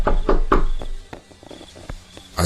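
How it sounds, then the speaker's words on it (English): Hard knocking on a building's front door: three loud, heavy blows in quick succession, then a run of fainter, scattered taps and thuds, with no voices. "so I just knocked really hard."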